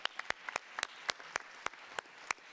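A few scattered, sharp claps from a small audience at a startup day event, quiet and sparse in an irregular rhythm.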